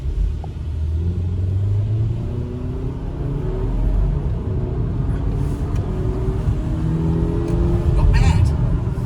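Subaru Forester e-boxer pulling away hard from a standstill, a steady low engine drone and road rumble that swells and holds near, with a voice speaking over it.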